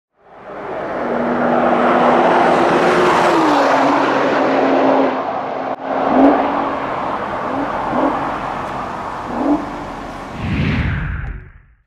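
A 2014 Nissan GT-R engine revs up loudly with a rising whine and sustained roar, then shifts through gears with brief dips before easing off.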